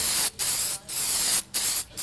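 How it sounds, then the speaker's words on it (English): A spray can coats an end table in paint during a furniture makeover, with four close, loud hissing bursts separated by short pauses as the nozzle is pressed and released. "when you're spray painting, to always keep your hand moving"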